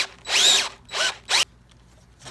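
Electric drill boring into timber for timber framing, three close whining bursts of the motor spinning up under load, the first longest, separated by short pauses.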